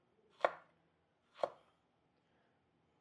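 Three crisp, evenly spaced chops from a knife cut through fresh jalapeños on a board, each a sharp isolated thud with quiet between.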